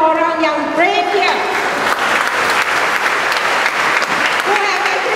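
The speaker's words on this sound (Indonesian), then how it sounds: "Boleh kita bagi satu tepukan kepada orang yang brave here." Audience applause fills a political gathering in Malaysia, a dense, steady clatter of many hands throughout, while a voice speaks over it at the start and again near the end.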